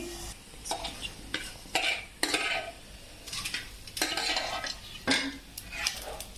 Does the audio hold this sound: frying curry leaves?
yes